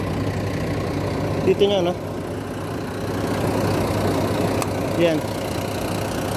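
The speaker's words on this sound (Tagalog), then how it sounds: "Umaandar na to guys, umaandar na tong unit na to, umaandar na." A wheel loader's diesel engine idles with a steady low rumble and throb, while people talk briefly nearby.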